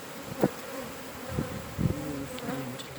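Honeybees buzz around open hives in an apiary, a steady close drone with individual bees passing near and fading away, no voices.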